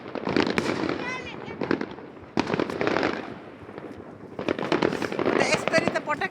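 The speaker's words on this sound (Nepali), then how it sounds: "यसरी त पटकाहरू पड्केको देखेको तर यस्तो अगाडिबाट चाहिँ देखेको थिएन" Fireworks and firecrackers bursting at night, rapid crackling volleys and sharp pops in dense clusters with whistling rises, loud and close, while people talk and exclaim over them.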